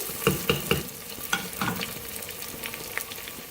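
Chopped tomatoes and spices are stirred in a frying pan for turnip sabzi, with several sharp scraping and clacking strokes over a continuous close sizzle, and no voices.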